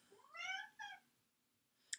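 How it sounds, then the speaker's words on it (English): A house cat gives two clear meows close by, one longer and one short, followed by a quiet pause and a single sharp click, with no one talking. "my other cat Monty totally agrees with that"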